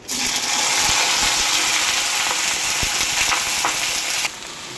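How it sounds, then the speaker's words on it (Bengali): Washed okra hits hot oil in a wok with dried red chillies, giving a loud, steady sizzle with a few clinks of stirring, then dropping slightly quieter near the end. "এবার ধুয়ে রাখা ভেন্ডিটা দিয়ে দেবো।"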